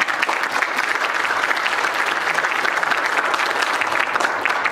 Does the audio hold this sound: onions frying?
no